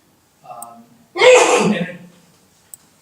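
A short intake of breath followed by one loud, explosive sneeze, then quiet.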